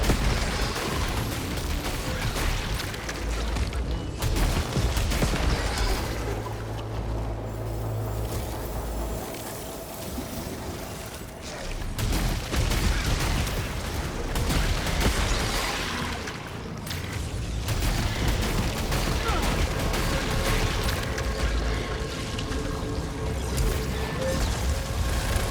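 Enemy bullets and weapon fire in the sci-fi shooter game Returnal, a dense, loud, continuous barrage of crackling shots and bursts running throughout with short dips in intensity.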